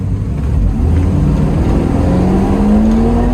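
Flooded 1973 Pontiac Trans Am engine revving hard during a burnout, a loud steady roar with pitch climbing as the revs rise, no talking over it.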